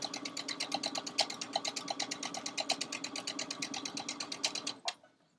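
A sewing machine bastes a lining seam around the edge of a fabric stocking, a steady rapid stitching chatter running close and loud for about five seconds before stopping abruptly.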